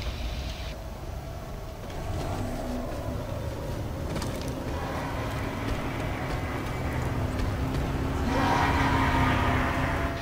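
A train in a video game rolls through close by, its steady heavy rumble building over ten seconds while the horn sounds in long, loud blasts near the start and again at the end.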